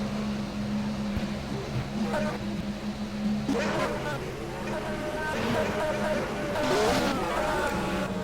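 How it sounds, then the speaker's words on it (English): Racing car engines in the rFactor game whine and rise on the grid at Barcelona, Spain, moderately loud, shifting pitch as cars pass, under a steady low drone with a commentator talking over them. "Some of the cars are now coming onto the grid now"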